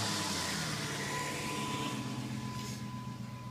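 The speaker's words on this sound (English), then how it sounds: "I'll go ahead and start the truck up and show you the unit." A lifted Jeep Cherokee engine running at a low, steady idle after starting, with a faint hum and rumble that stays even throughout.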